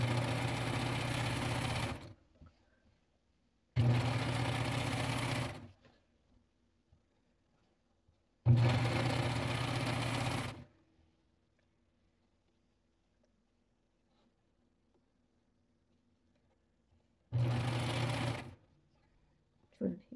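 A sewing machine runs in several bursts of a few seconds each while stitching a space silk blouse. Each burst has a steady, close whir, and the gaps between them are silent.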